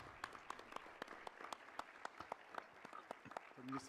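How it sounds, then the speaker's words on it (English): Sparse, faint applause from a small symposium audience on indigenous peoples law, with separate claps sounding in an uneven patter for a few seconds and no talk over it. "applause for him."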